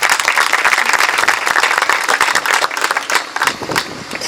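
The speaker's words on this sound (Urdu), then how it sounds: "میں کہوں گا زوردار تالیاں بجائیں" Applause from an audience in a church, dense continuous clapping sustained throughout, loud and close with no break.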